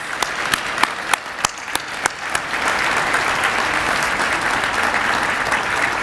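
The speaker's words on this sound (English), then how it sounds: "giving them all a wonderful round of applause" Audience applause fills the room at an awards gala, opening with a few distinct loud claps before it swells into steady, dense clapping from a large crowd.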